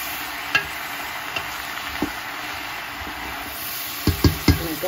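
Shrimp shells tossed and stirred in a pot for seafood stock: a soft, continuous sizzle and hiss with scattered light scrapes and knocks, growing into a cluster of louder clatters near the end.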